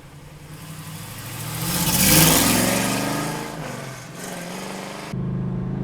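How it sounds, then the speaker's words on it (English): A 1968 Chevrolet Camaro with a 4-speed and big block V8 revs up, the exhaust note swelling to a loud peak, easing back down, then settling into a steady rumble. "let's take this Camaro for a ride. 4-speed big block, baby. I love the exhaust on this car."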